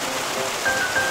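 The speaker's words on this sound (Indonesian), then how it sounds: "gemericik hujan pun kian menderas" Heavy rain patters steadily and densely onto a surface beside a pond during a fishing outing, a continuous wash of drops with no voices.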